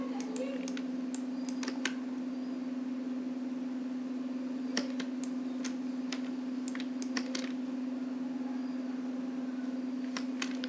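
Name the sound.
computer keyboard typing, pressing U shortcut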